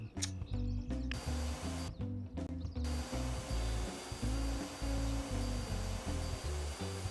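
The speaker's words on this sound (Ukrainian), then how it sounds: "Все, попилососила." Vacuum cleaner running steadily through the house during cleaning, a loud continuous motor drone with pulsing low rumble as the nozzle moves, briefly changing tone mid-way.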